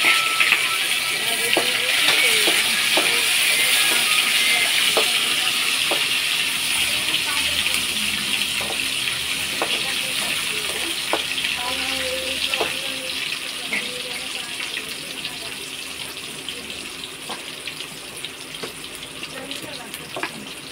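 Tomato pieces go into a hot, sizzling pan for a puffed-rice tempering, giving a steady, moderately loud hiss and crackle with scattered small clicks and ticks. The sizzle runs throughout and eases slightly toward the end.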